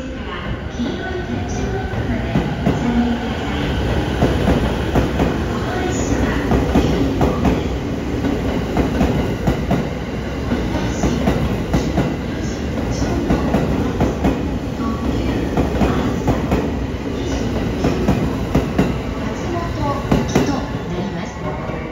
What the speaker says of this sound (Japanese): まもなく11番回 送列車が発車いたします。